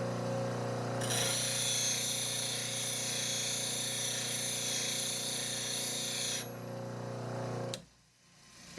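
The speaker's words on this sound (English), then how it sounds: "I start the grinder and gently oscillate, keeping both the heel and the edge on the wheel." A bench grinder wheel sharpens a skew chisel with a steady, loud whirring hiss for several seconds, then the wheel winds down and the sound drops away near the end.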